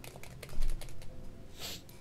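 Rapid clicking keystrokes on a computer keyboard during a Luigi's Mansion game stream, a quick irregular burst of taps, close and moderately loud.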